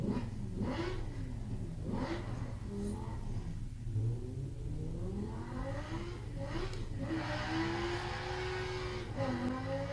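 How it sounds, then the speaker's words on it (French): An Audi R8 engine in Forza Horizon 4 revs and surges repeatedly, pitch sweeping up and down over a steady low rumble, loud and continuous with a synthetic game-like quality. "Audi R8. Ouh, très beau bruit, on entend."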